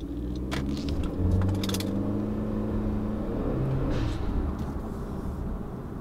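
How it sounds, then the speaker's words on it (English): A Honda Civic 1.5T engine with a Mishimoto intake and blow-off valve drones and rumbles steadily with a faint whirring rise under a light pull, recorded from inside the moving car, without any clear revving peak. "I'll do one more little pull so we can hear the new intake and the blow-off valve"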